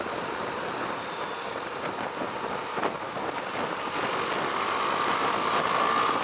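A Husqvarna Svartpilen 401 motorcycle engine drones steadily beneath heavy wind rush while riding, with the engine note rising slightly toward the end.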